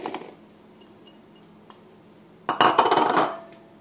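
Ham, cheese, bacon and fresh rosemary mixed together in a mixing bowl: faint scrapes, then a short burst of clattering utensil and bowl clinks near the end, with no one speaking.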